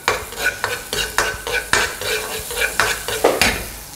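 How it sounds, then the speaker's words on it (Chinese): Minced garlic and dried shallots stir-fried in a little oil in an unwashed pan, a close sizzle broken by rhythmic scraping strokes of a spatula against the pan, about two or three per second. "不要洗锅，我们将就这个锅给少许的油，下点蒜蓉和这个干葱"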